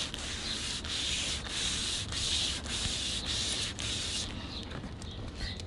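Meguiars clay bar rubbing back and forth across contaminated car paint, a close, steady gritty scraping with regular stroke pulses, no talking.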